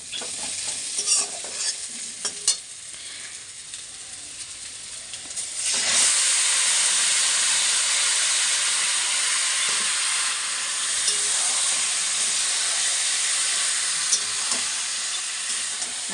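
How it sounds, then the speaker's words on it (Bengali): Chicken hitting a pan of onions already fried to a reddish brown, with a loud, steady sizzle and hiss that jumps up sharply partway through and holds strong to the end, broken by occasional stirring clatter. "এখন আমি এর মধ্যে চিকেনটা দিয়ে দেবো।"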